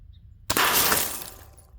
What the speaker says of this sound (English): that took 1 shot to break that rear glass